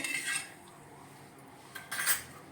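A metal spoon stirs sugar into milk in a vessel, with quiet clinks and scrapes in a few brief bursts.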